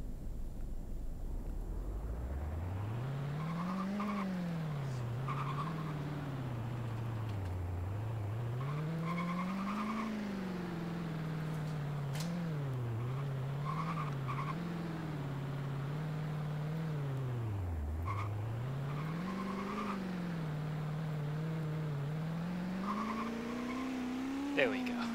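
Car engine in the Roblox Horizon racing game revs and drones continuously, pitch rising and falling as the car wipes out and spins, with a player talking over it throughout.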